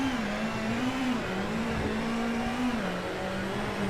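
Ford Fiesta WRC rally car engine in the game WRC 8, holding a loud, steady drone at nearly full throttle, pitch wavering slightly with small lifts and shifts.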